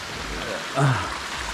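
Continuous rushing water from Kawa-Kawa Falls, a steady broadband wash close by, with a brief voice rising over it midway.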